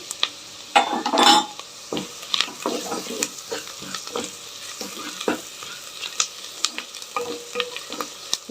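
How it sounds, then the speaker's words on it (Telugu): Curry leaves hit hot oil in a pan while dal khichdi is cooked, setting off a close burst of sizzling followed by irregular stirring scrapes and crackles. "కొంచెం కరివేపాకు కూడా యాడ్ చేస్తున్నా ఇందులోకి"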